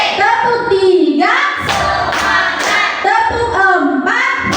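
Standing schoolchildren in a classroom clap together in a counted rhythmic pattern, with sharp, evenly spaced claps under loud voices chanting along.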